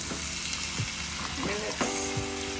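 Soaked millet is added to a sizzling pan of sautéed onion and peppers, a steady close frying crackle with a few scrapes and stirring knocks.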